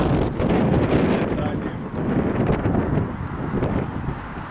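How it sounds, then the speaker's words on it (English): Strong wind blowing outdoors, buffeting the microphone in a continuous loud roar under a person talking. "it's pretty windy today and we don't wanna damage the awning"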